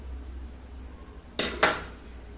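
A spoon clinks twice against a bowl while mixing boondi raita, two sharp close metallic knocks after a quiet stretch, with no voices.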